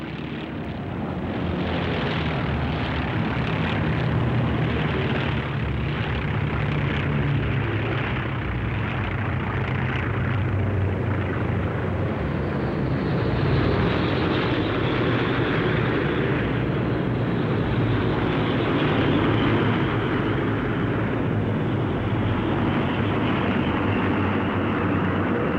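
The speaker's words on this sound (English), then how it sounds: "The planes passed over the USS Missouri while the 11 members of the Japanese delegation were still on board" A deep, sustained roar of many aircraft in squadrons passes over Tokyo Bay in 1945, loud and rumbling throughout with a slowly shifting drone, heard alone.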